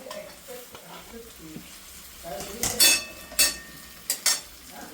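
Tomatoes go into ginger-garlic paste frying in a pan while cooking a Marathi mataki amti, giving a steady sizzle with a few sharp bursts of stirring and scraping near the end.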